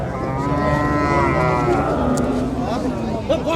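A local bull at a cattle market moos loudly and at length up close, a deep drawn-out call with a second shorter moo near the end.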